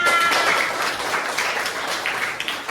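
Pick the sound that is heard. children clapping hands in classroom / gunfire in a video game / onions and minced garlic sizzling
children clapping hands in classroom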